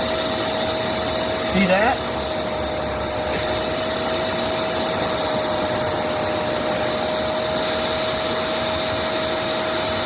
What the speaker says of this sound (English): It's sucking it this distance away.